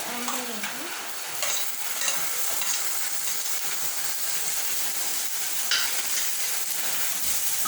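Ginger garlic paste stirred into liver frying in a pan, a steady close sizzle and hiss with scraping stir strokes running throughout, no talking.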